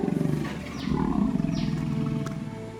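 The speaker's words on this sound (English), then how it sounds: "Never had an elephant make that noise before." An elephant in Thailand lets out a loud, drawn-out roaring rumble, close and powerful, rising and sustained for several seconds with no talk over it.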